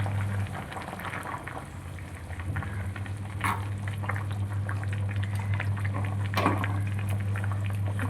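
Kerala-style fish curry boiling in a pot, heard as a loud continuous bubbling and churning with a low steady hum, close by and uninterrupted.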